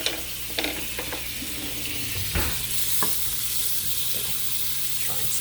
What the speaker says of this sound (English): now there's a buttery smell when I start frying this meat